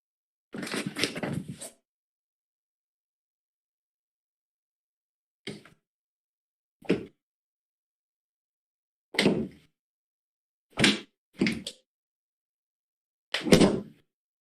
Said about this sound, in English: Yes, you heard a kitchen door slamming